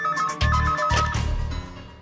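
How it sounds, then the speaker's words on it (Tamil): A telephone rings with a bright electronic tone near the start, cut through by heavy thumps and other dramatic sounds that soon bury it. "Phone sir. கேக்குது."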